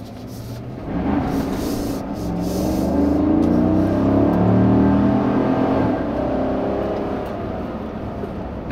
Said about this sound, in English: first putting my foot down, is this truck is surprisingly quick